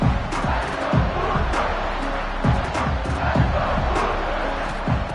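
A home stadium crowd roars continuously in the NCAA 26 college football video game, a dense rumbling cheer with no break.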